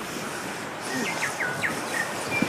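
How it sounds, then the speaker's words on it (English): A few birds chirp softly over faint outdoor ambience in the Christchurch countryside, with scattered short calls spread across a couple of seconds. "You hear the birds?"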